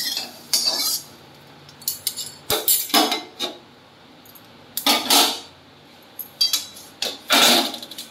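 Metal utensils clink and scrape against a pan in separate bursts as freshly fried food, seasoned with garlic and green chilli, is lifted out; quiet pauses fall between the sharp, close clatters.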